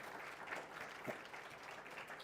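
An audience at a mathematics awards function keeps applauding a winner, a brief soft and distant patter of clapping.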